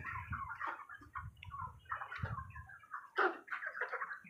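Several chickens clucking softly in short, irregular bursts, fairly quiet and close, with no talking.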